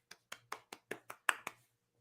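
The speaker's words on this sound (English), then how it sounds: "Golf clap." Eight quick, soft hand claps in an even rhythm, a light polite golf clap, close and isolated.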